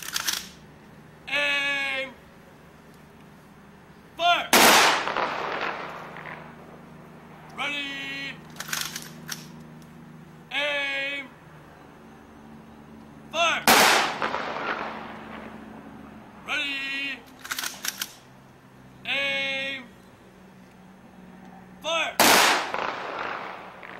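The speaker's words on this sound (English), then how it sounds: "Ready, aim, fire!" Three sharp ceremonial rifle volleys crack out a few seconds apart at an 1812 memorial on Deadman's Island, Nova Scotia, each loud and echoing, with shouted drill commands between the shots.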